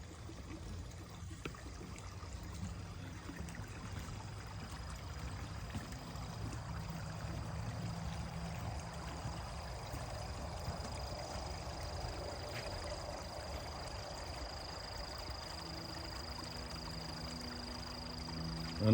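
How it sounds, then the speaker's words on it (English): Underground stream surfacing in a wooded area torn up by Hurricane Sally, its water flowing and trickling in a steady, soft wash that continues unbroken throughout. "Underground stream"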